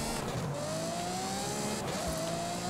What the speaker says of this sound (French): Le véhicule patine encore un peu plus avant de passer les vitesses